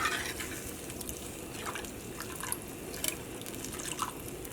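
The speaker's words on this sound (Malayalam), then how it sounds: "അപ്പോൾ ഈ വെള്ളം നന്നായിട്ടൊന്ന് തിളച്ചോട്ടെ." Soft, steady bubbling and faint popping of water boiling in a tomato curry pan, with occasional small splashes and clinks; no voices.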